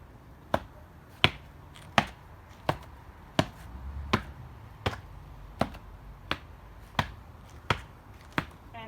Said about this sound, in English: You can try to make noise